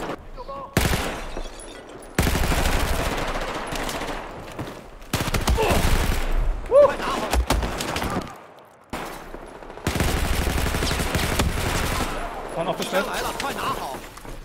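Bursts of rapid automatic gunfire rattle through a 5v5 competitive shooter match, several long volleys separated by brief pauses, loud and close, with players calling out over the shooting.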